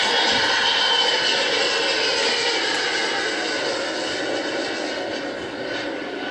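A military jet engine with afterburners lit, from an older fighter era, sends out a loud, steady roar that fills the clip alone and eases slightly toward the end.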